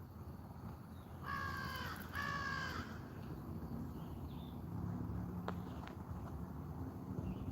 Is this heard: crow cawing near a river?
yes